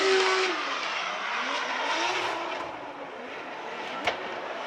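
Drift cars in a pro drift competition slide through a touch-and-go section, with sustained tire squeal and skidding over roaring engines, a continuous close wash of noise with a sharp brief pop near the end.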